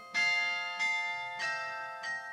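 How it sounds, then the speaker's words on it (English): Carillon bells ring in the Gävle bell tower, with four clear, resonant strikes in slow succession, each leaving a long shimmering ring that overlaps the next. "I play the carillon up in the bell tower"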